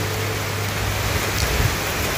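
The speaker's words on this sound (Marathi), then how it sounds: "बऱ्यापैकी मोठा पाऊस येतोय" Heavy rain pours steadily outside a roadside dhaba in Kolhapur, a dense, even hiss that holds unbroken and loud throughout, with a low hum underneath and no voices.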